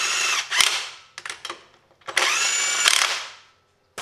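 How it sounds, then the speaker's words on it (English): A Bauer 20V 1/2-inch cordless impact wrench hammers loudly up close in two bursts, a short rattling burst then a sustained buzzing run of about a second, with brief trigger blips between and no talk. "Got an impact here. I might as well tighten him with"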